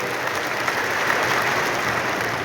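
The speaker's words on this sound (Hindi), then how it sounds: "एक बार तालियां बजाकर आप इनका सम्मान करिएगा।" Applause from the audience at a Hindi poetry gathering (kavi sammelan) in Patna honouring a poet: steady, dense clapping from a large crowd that holds evenly throughout, with no voices above it.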